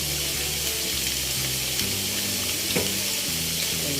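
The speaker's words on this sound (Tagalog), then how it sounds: "Ilagay po natin yung kalahati ng niyog gata natin." Coconut milk poured into a hot cooking pan for a simple Filipino dish sets off a loud, steady sizzle and bubbling that fills the short stretch close up, with no voices.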